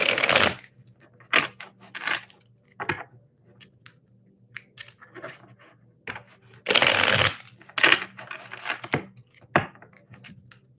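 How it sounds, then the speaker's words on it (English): Tarot cards being shuffled by hand in repeated riffling bursts, a long loud flurry in the middle among shorter close taps and slides, with no talking. "Hang on, let's shuffle"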